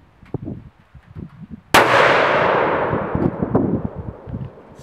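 A single sharp rifle shot from a Remington 700 cracks loudly after quiet low rustling, its blast decaying into a long rolling echo over the next few seconds.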